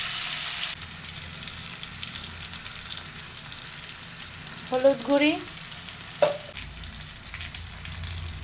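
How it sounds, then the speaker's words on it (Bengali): Green bananas (plantain) fry in a pan for a vegetable shukto, giving a low, steady sizzle close by, with a few brief clatters and a short spoken phrase over it. "এখন আমি কাঁচকলাগুলো ভেজে নিব।"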